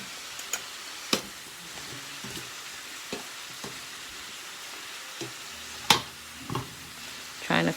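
Oxtail pieces browning in a frying pan for stewed Jamaican oxtail, a steady low sizzle punctuated by occasional sharp clicks and clatters as pieces are moved.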